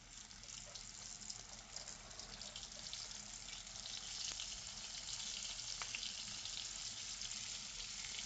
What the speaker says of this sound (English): We're gonna fry them nice and crispy.